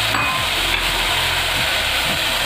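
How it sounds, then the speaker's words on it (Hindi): Tomatoes going into a hot pan for chicken lasagne filling, a steady bright sizzle with scraping stirring strokes underneath, close and continuous. "अब हम इसमें टमाटर डालेंगे"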